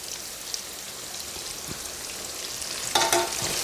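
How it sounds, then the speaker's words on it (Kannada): Two medium onions, finely chopped, fry in a pan for Karnataka-style sabsige chitranna, a steady close crackling sizzle throughout with a brief louder stir of spoon against metal near the end, no voices. "ಇದು ಕೂಡ ಅಷ್ಟೇ ಕೆಂಪುಗೆ ಸಾಫ್ಟ್ ಆಗೋವರೆಗೂ ಚೆನ್ನಾಗಿ ಫ್ರೈ ಮಾಡ್ಕೋಬೇಕು"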